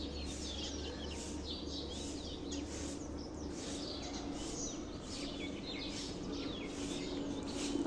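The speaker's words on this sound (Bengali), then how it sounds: "পাখির কিচিমিচির শব্দ।" Small birds chirp and twitter in quick, scattered calls heard from a fourth-floor home at dawn, steady and moderately distant over a low constant hum.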